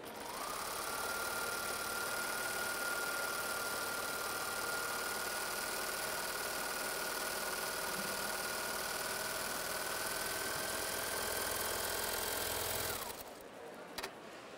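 A Babylock sewing machine stitches with thick thread at a trade-fair demonstration, giving a continuous steady whir for about thirteen seconds before it stops abruptly.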